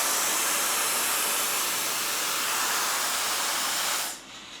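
A Neakasa vacuum steamer for clothing running close by, giving a loud, steady hiss of steam and suction that stops abruptly near the end, with no talk.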